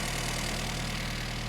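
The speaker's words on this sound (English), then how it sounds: "So that's the first time this engine's ran in 12 years" A 1975 Mini Clubman estate engine, just revived after years parked, idles close by with a steady, even low rumble and regular pulsing beat, running alone without talk.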